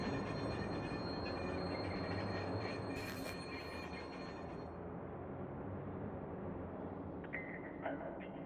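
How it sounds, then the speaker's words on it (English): Subway train in the video game Watch Dogs pulling into a station, a loud continuous rumble of wheels and rails with high squealing and a short burst of hiss partway through, a faint announcement voice beneath. "Southbound train arriving shortly."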